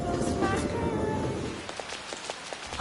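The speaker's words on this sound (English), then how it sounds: "Oh no, Rain?" Rain falling in the video game Persona 5 Royal, a steady dense patter under game music and talk, thinning to scattered drops and soft splashes by the end.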